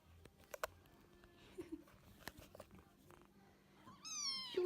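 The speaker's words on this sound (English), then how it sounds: "oh, there's a kitten." A kitten meows at a farmhouse in rural Tismana, Romania, in several short, high, separate calls over a quiet room. Light thumps and faint household noises sit between the calls.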